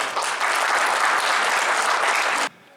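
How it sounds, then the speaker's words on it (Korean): A crowd at an association's annual general meeting breaks into loud, steady applause that continues for over two seconds, then cuts off abruptly. "우렁찬 박수 한 번 부탁드리겠습니다"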